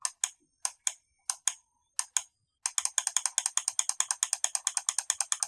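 Huano mouse switches clicking in a sound test: a few spaced single clicks, then a fast steady run of sharp, close, loud clicks, with no talk.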